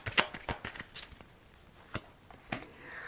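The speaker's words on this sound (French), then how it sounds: "Je vais recouvrir tout de suite avec une carte avant de continuer." Light tarot cards slapped and slid onto a table during a reading, a string of quiet soft flicks and taps at close range with no talking.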